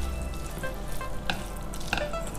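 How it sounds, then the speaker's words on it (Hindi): A capsicum chilli fry with tomato ketchup is stirred in a hot pan, giving a continuous sizzling hiss with a couple of faint scraping clinks, close and steady, with no talking. "और इसे कर देंगे अच्छे से मिक्स।"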